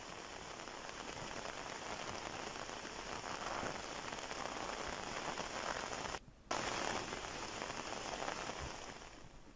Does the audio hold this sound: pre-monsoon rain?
yes